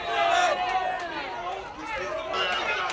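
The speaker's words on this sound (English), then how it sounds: "you can see their fans cheering and jeering" Baseball fans at Granderson Field cheer and jeer during a Mustangs comeback rally in a one-point game, a continuous crowd hubbub with shouts rising and falling throughout.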